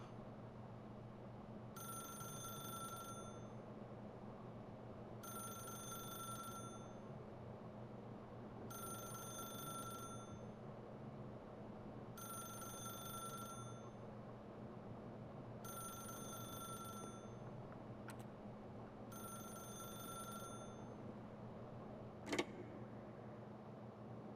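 An old-style telephone rings in The Stanley Parable, six evenly spaced bright ring bursts, fairly faint, over a steady low room hum with no voices.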